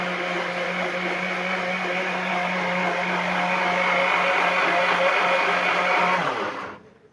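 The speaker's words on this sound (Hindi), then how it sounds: "दही और प्याज को एक साथ ग्राइंड कर लेते हैं" An electric blender grinds yogurt and onion together with a steady, loud motorized whir that holds for about six seconds, then spins down and stops.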